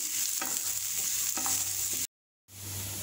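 Onions sautéing in a pan after garlic, with a steady bright sizzle and occasional stirring scrapes, then a brief cut to silence before the sizzle resumes.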